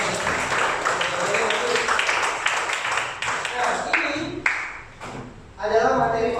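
Classroom clapping for a student named Salman, irregular and uneven claps mixed with talking voices, dipping midway before a brief fuller burst near the end.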